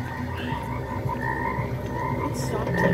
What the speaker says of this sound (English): Tree frogs.